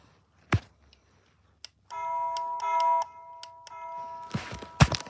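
A new electronic doorbell system playing its chime: a clear two-tone ding-dong followed by a ringing melodic tone, close and fairly loud, framed by a few handling knocks and thumps.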